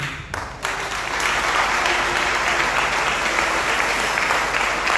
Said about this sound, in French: un tonnerre d'applaudissements pour toute femme